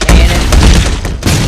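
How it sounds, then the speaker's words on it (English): A cannon launch in the Roblox ragdoll game, heard as a loud burst of rapid booming thumps and crackling blasts that fills the short moment. "I'm gonna get myself launched by a cannon."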